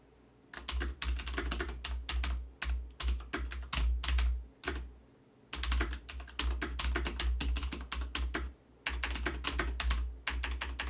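Rapid, continuous typing on a computer keyboard, close and fairly loud, with clustered bursts of key clicks broken by a few short pauses and no talk.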